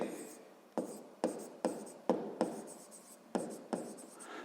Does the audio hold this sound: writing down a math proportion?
yes